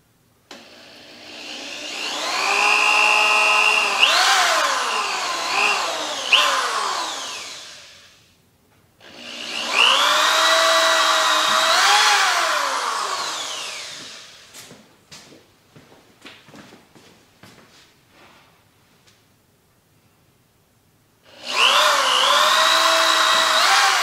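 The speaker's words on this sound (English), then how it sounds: "Now to pilot the holes, I'm using a drill bit that's 2 times smaller than the wood screw there." Power drill piloting holes into a wooden side rail while rebuilding a Kawasaki Mule trailer, heard as three long, loud whining bursts that rise and fall in speed, with light clicks and knocks in the pauses between them.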